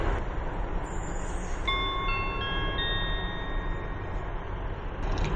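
A train runs through a London railway station platform without stopping, a steady loud rumble of wheels on rail lasting the whole stretch, with high ringing tones from the rails or wheel squeal sliding in partway through.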